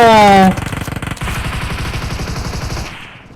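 A flare gun fired in PUBG Mobile: a rapid, loud mechanical burst of evenly pulsed pops lasting a few seconds, preceded by a short bright tonal sound and ending abruptly.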